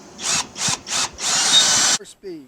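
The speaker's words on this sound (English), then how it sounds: "Pick up our drill. We slowed it to slow speed." A power drill at slow speed drills holes during a grille guard light bar install on a Ford Explorer, whirring in three short bursts, then running steadily for a longer stretch before stopping, close and loud.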